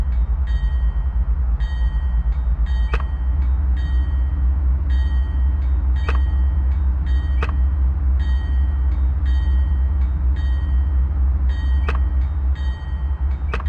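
Diesel locomotive in Microsoft Train Simulator pulling away from a standstill: steady low engine drone and rumble throughout, with a repeating bell ringing in regular strikes over it.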